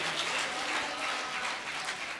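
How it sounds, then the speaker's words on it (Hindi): An audience applauds at a Ramlila performance in Agra after a scene of Sita's abduction, producing a steady wash of clapping at moderate volume from a crowd. "एक बार और जोरदार तालियां आपकी पहुंचनी चाहिए।"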